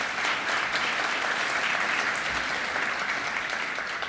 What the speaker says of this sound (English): If we could give them all a round of applause as well.